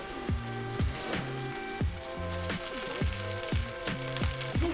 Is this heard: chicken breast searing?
yes